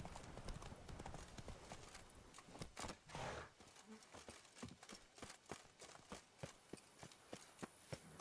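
Horse hooves in Witcher 3: Blood and Wine clip-clopping at a steady gallop, a quick regular drumming of hoofbeats close by, with ambient game noise underneath and no speech.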